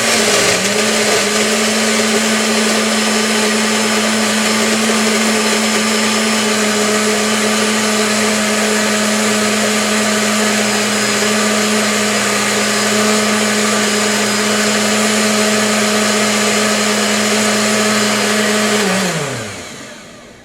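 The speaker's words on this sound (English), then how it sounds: "We got our blender." A blender mixing piña coladas whirs steadily at high speed for about nineteen seconds, loud and close, then spins down and stops.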